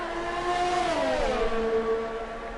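F1 race cars in a racing video game at Spa's Kemmel Straight, one swooping past an Alfa Romeo with DRS open, engine whine rising and then sliding downward in pitch as it passes close by.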